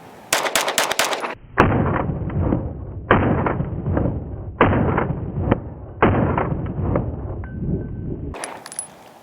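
An Atlas EOS 9mm pistol fires four 115-grain rounds as loud, sharp reports evenly spaced about 1.5 seconds apart, each trailing a brief echo. A faster burst of distant gunfire comes just before them.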